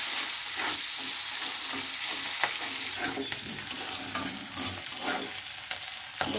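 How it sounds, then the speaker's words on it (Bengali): Onions and three green chillies fry loudly in a pan, a dense close sizzle with bursts of stirring and spatula scrapes throughout, with no voices. "দেখুন আমার পেঁয়াজ ভাজাটা কিরকম হয়েছে।"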